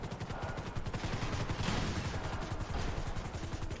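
Gunfire in the video game GTA 5 during a roleplay jewelry store robbery, aimed at a car's tyres, rattles in rapid, evenly spaced automatic bursts throughout.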